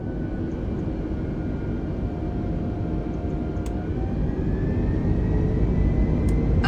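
Airbus A320 jet engines spooling up to takeoff thrust in a flight simulator game, a loud, steady roar with a rising whine that holds throughout, no voices.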